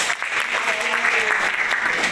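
Steady applause from a group, a dense continuous wash of clapping at a consistent loudness with no voices over it.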